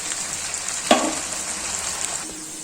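Chicken fried rice stir-fried with soy sauce, vinegar and salt, giving a steady close hiss of frying with a few scraping stir sounds and one sharp clatter near the start.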